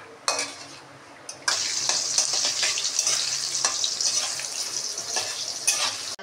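Potatoes for Bengali shukto fry in oil in a pan. After a quiet start, a loud, steady hiss and sizzle sets in and runs on, with occasional clinks of a utensil.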